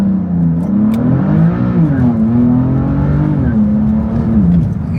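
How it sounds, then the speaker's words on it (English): A BMW F80 M3 launches hard from a stoplight, its engine roaring loud and close with rising, shifting revs throughout, while excited voices shout over it from inside the car. "we're gonna try a little bit of a launch control right here at the stoplight"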